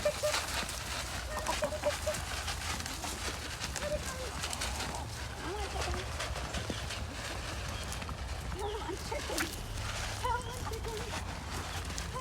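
Chickens cluck and mutter around a farm amid a busy outdoor background hum, with scattered faint bird calls and people talking nearby.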